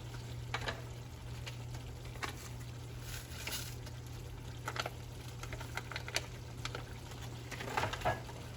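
Beef fajita meat and vegetables being stirred in a pan with fajita seasoning and a little water, a steady low sizzle with soft scraping and patter of the spoon throughout, close and moderate in level.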